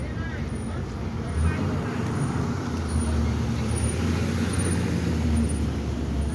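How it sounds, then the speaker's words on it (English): Cars and buses in a school pickup line at Roxbury Prep make a steady, low engine rumble of nearby traffic, with a faint high whine running throughout and no break in the noise. "Then the buses come in there too, so you're mixing the buses with the cars."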